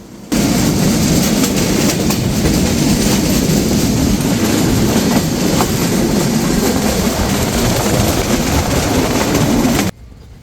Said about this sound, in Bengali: এই ট্রেনটি হলো ঈশ্বরদ্বীপ থেকে রহনপুরগামী আন্তনগর রাজশাহী কমিউটার এবং এখন আমরা অতিক্রম করে যাচ্ছি আরানি রেলওয়ে স্টেশন